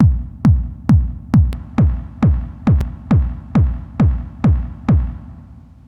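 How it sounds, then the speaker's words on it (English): A steady four-on-the-floor techno kick drum from a Korg Volca, compressed and distorted, about two hits per second, each a sharp click followed by a booming, slightly gritty low thump that fades away. "And there we have the techno kick drum."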